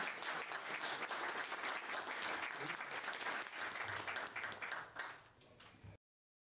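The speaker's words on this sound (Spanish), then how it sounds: "Y un aplauso muy especial." An audience applauds at a public event where the Mayor of Miami announces investments and real estate developments. The clapping is dense and sustained, then thins out near the end before stopping.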